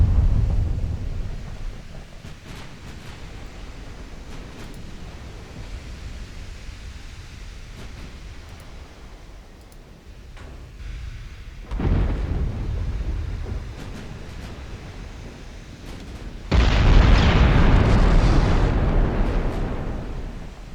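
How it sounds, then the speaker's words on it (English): Heavy naval gun shells firing in the warship game Ultimate Admiral Dreadnoughts, deep booming rumbles that swell and fade, with one loud low blast near the end and quieter distant rumbling between. "And I'm firing heavy shells."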